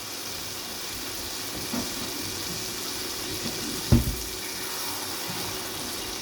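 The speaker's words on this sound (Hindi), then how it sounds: "अब इसमें थोड़ा सा पानी डालेंगे और इसको पकाएंगे।" Water poured into a pan of chicken chatpata makes a steady, fairly faint running hiss, broken by a light knock and one sharp clunk midway, with no one speaking.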